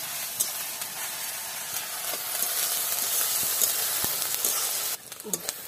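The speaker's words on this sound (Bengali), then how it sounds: "পেঁয়াজটা ভালো করে ভেজে নিই" Onions sizzle and fry in hot oil in a pan for a half-ripe jackfruit curry, a loud, continuous close hiss with occasional stirring clicks before the frying dips quieter near the end.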